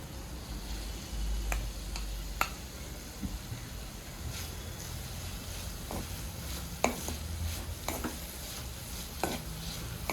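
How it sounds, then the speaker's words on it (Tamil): Beef and button mushrooms being stirred in a pan, a low steady sizzle broken by scattered spoon scrapes and clicks at an irregular rhythm, fairly quiet and close, no voices. "அதையும் சேர்த்து நல்லா மிக்ஸ் பண்ணிக்கிறோம்"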